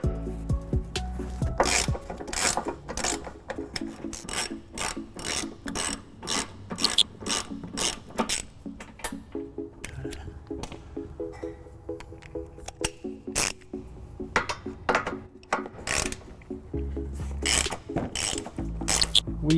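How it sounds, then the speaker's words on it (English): A socket ratchet with 18 mm and 15 mm sockets removes frame bolts on a 2014 Dodge Grand Caravan, clicking in quick, steady, repeated strokes close by with brief pauses, a voice speaking faintly now and then. "So let's go ahead and take those down. We're going to use an 18 millimeter socket and a 15 millimeter socket,"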